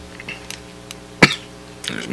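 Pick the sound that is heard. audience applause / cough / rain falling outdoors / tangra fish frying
cough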